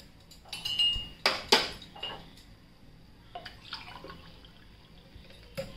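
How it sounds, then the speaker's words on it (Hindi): Half a cup of water added to a boiling ragi rawa soup, a few quiet splashes and drips with short gaps between them, close by and without talk. "1/2 कप वाटर वापस डाल रही हूँ"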